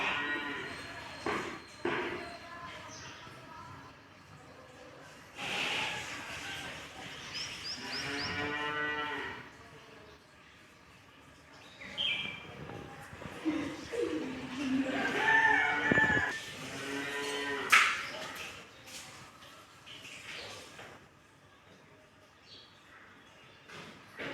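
A cow moos repeatedly while giving birth to a calf, with several loud, drawn-out lowing calls spread across the clip alongside short knocks and movement noises, and a rooster faintly audible in the background.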